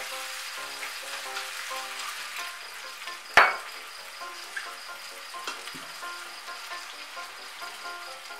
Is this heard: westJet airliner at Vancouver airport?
no